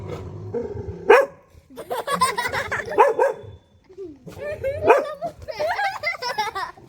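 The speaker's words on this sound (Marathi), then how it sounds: "स्वीटीनं जरा आवाज काढला की चिकू गारीत" A dog barks and yips in short bursts, close by, mixed with whimpering, while people talk over and between the barks.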